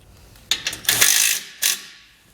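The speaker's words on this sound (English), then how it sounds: "and then we can torque everything down." Ratchet wrench torquing down the bolts of a base plate kit on a 2020 Jeep Gladiator, a close burst of metallic ratcheting clicks followed by a shorter second burst.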